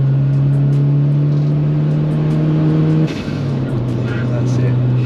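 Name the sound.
engine-swapped VW Caddy TFSI engine revving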